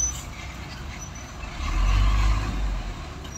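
A PT Pelangi bus arrives at a bus stop in Aceh, its low diesel engine rumble swelling as it pulls close, with faint brake hiss and no talk.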